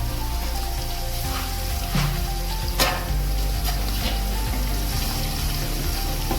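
Ginger and green chillies fry in hot oil for khichdi, giving a steady close sizzle with a few soft clicks and stirring scrapes scattered through it.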